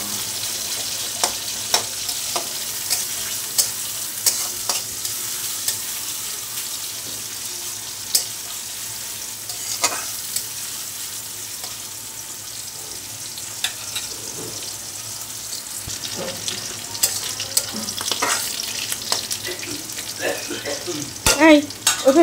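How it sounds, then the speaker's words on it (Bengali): Chopped onions fry in oil and later prawns are added, giving a steady close sizzle with repeated clicks and scrapes of stirring, and a brief faint voice in the background toward the end. "পেঁয়াজটাকে একটু হালকা ভেজে নিয়ে"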